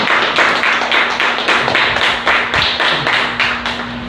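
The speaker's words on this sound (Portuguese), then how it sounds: "Vamos dar uma salva de palmas bem forte ao Senhor." A church congregation claps together in a steady, loud rhythm, about two to three claps per second, strong and close throughout, with a faint sustained tone underneath.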